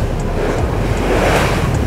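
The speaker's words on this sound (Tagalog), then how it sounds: "Ang lalaki ng alon" Big ocean waves crash and surge under strong wind at a shore, a loud continuous roar of surf and gusting wind noise buffeting the microphone with no pauses.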